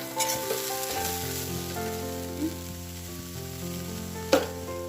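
Ten to fifteen chopped curry leaves sizzling in hot oil, a steady close sizzle with a sharp stir or clink near the end, over a low electrical hum, no voices.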